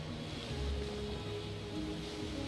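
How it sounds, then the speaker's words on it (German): Sea surf rolling onto the coast in the city-building game Anno 1800, a steady broad wash of waves with soft low swells, continuous and moderately loud with no voices. "Noch die Uferküste, wie das Meer rauscht."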